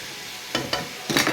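Chicken frying in a pan gives a steady close sizzle, broken by a few scraping stirs or turns near the end.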